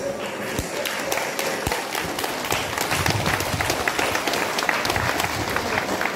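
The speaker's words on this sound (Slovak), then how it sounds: "váš potlesk patří slovenskému štvorlístku a jejich děvčenským šarůvačkám" Festival audience in Veselí nad Moravou applauds the Slovak folk dance ensemble Štvorlístok and its girls' dance, steady dense clapping with crisp individual claps near the front, continuous and fairly loud throughout.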